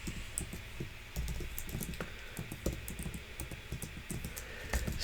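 Quiet clicking keystrokes tap out on a computer keyboard in irregular bursts, soft and close, with no talk.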